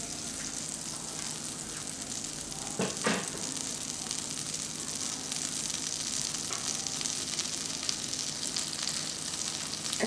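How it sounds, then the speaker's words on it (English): Butter sizzles and fries steadily in a hot pan, the base for a soya chunk curry in a soya chunk noodles recipe, a constant close crackle with a brief stir or clatter near three seconds and no talk. "and I'm going to add some butter"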